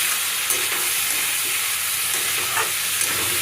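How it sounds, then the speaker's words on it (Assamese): Potatoes and tomatoes fry with spices in a hot pan, a loud, close, constant sizzle with faint scraping of stirring over it and no speech. "এতিয়া আলু আৰু টমেটোখিনি মছলাৰ লগত ধুনীয়াকৈ মই ভাজি লৈছোঁ।"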